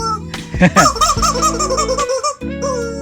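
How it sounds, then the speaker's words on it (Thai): Fowl calling near a campsite at a viewpoint in Chiang Rai, Thailand: a loud, squawky series of honking, clucking calls, several bursts in quick succession, close by. "ไก่"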